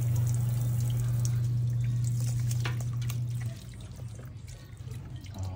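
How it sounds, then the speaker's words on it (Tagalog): Water runs strongly from a tap with a steady rushing stream that drops off partway through, leaving softer trickling and splashing afterward, indoors with no talk. "Lakas ang tubig."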